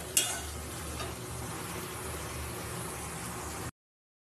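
Okra and potato curry cooked with mustard paste sizzles steadily in oil in a pan, a close, even frying hiss with a brief clink of stirring near the start.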